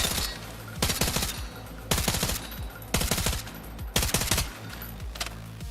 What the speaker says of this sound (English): Maybe if I use it on burst fire.